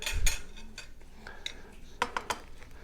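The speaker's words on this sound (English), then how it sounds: "We're going to give that a little stir." A utensil stirs a crisp cucumber salad in a bowl, giving a few light clinks and scrapes against the dish, with a louder cluster of taps near the end of a short, quiet stretch.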